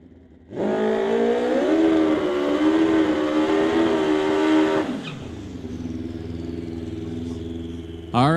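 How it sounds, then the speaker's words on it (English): Pro Modified drag racing motorcycle engine at a drag strip, a loud sustained high-revving roar lasting about four seconds that then drops abruptly to a lower steady idle-like drone. "That is lined up and ready to go as the last Pro Modified bike that we have."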